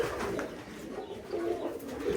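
Homing pigeons coo softly in a pigeon loft, their low, rounded calls rising and falling in repeated phrases against a faint background hum.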